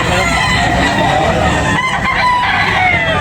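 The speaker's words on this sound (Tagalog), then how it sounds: "Guwapong manok." A rooster crows loudly amid a busy din of other fowl clucking and calling nearby at a chicken selling market, with faint voices mixed in.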